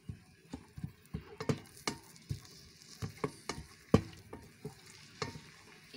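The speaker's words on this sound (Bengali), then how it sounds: "এভাবে বেশ কিছুক্ষণ নেড়ে চেড়ে খুব সুন্দরভাবে ভেজে নিতে হবে পেঁয়াজ কুচি এবং কাঁচামরিচ কুচি" Chopped onion and green chili being stir-fried in hot mustard oil, with a steady low sizzle broken by repeated sharp scrapes and taps of a spatula against the pan, close and fairly loud with no talking.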